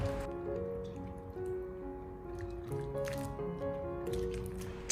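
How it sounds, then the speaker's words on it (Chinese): Hands rub spring bamboo shoots one by one in a basin of water, giving soft squishing swishes and drips over a steady tonal background, with a louder splash at the end. "我们在清洗竹笋的时候，最好一根一根的给它搓洗，将竹笋上面的脏东西搓洗下来"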